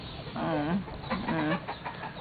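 Two bursts of close hen clucking, a rising run of throaty clucks followed by a second similar bout after a short pause.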